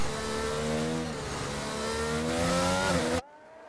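F1 cars race wheel to wheel at the Dutch Grand Prix in a racing video game, with high-pitched engines screaming and shifting pitch under acceleration, loud and continuous before cutting off abruptly.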